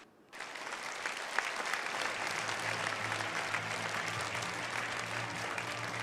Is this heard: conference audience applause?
yes